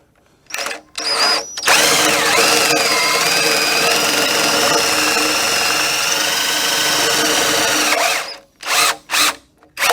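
A power drill bores a hole for a rail install, with short bursts of spinning at first, then a loud, sustained whine with a wavering pitch as the bit cuts, and a few brief final bursts after it breaks through.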